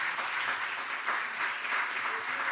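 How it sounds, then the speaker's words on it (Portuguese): A round of applause at a prison-studies conference closing session, dense continuous clapping from an audience, steady and moderately loud throughout. "uma salva de palmas para ela."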